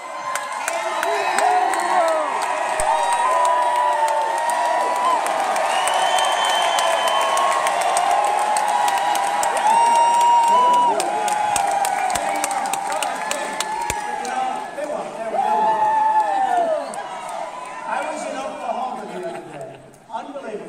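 A large rally crowd in a band shell in a massive Las Vegas park cheers, whoops and applauds without a break, a dense roar of voices with shouts rising above it, fading near the end.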